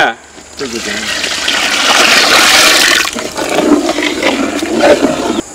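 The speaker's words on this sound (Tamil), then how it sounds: "கல்யாண ரசத்துக்கு பருப்பு தண்ணி" Lentil water pours in a steady rushing stream into a pot for rasam, a continuous splashing roar that swells and then tapers, with faint sounds in the background.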